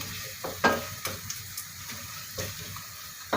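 Minced chicken and red meat being stirred in a pot for vermicelli soup, with soft scraping stirs and faint sizzling and a few sharper clinks of the spoon against the pot, close by and with no talk.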